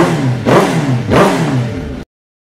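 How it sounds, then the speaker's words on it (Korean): A rebuilt disinfection truck engine runs loud and close, revving up twice in quick succession before cutting off abruptly. "엔진을 올려서 돌려봤는데"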